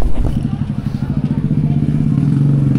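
Motorcycle engines idle and rumble close by at a crowded market day in Calape, Bohol, a steady low drone with some clatter and faint voices in the background.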